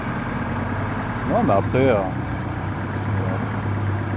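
A Citroën Xsara VTS 167 hp engine idles steadily with a low, even hum, close by, while someone speaks briefly over it.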